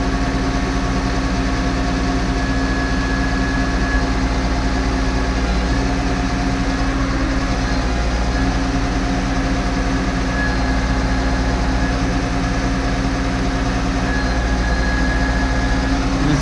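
A New Holland T6.175 tractor idles steadily during gearbox calibration, a constant low engine drone with a faint whine running through it, close and unbroken with no talk.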